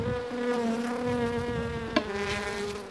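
Honey bee swarm buzzing steadily and close during a hive capture, a dense continuous drone with one brief knock partway through.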